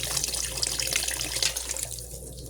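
Water pours into a cooking pot of laham (meat) with white beans, a continuous close splashing gush that eases slightly toward the end.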